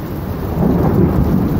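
Loud rumbling thunder rolls over steady heavy rain during a thunderstorm near Cambridge by the airport, swelling midway and holding strong to the end, with no voices.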